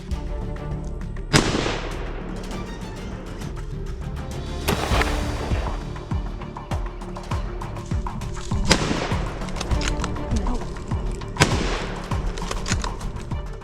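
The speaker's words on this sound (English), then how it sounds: "Controlling this invasive species with specialised rifles is a reasonable measure right now." Rifle shots ring out during dingo hunting on an outback farm, four sharp loud cracks spaced a few seconds apart, each trailing a rolling echo over a steady background rumble.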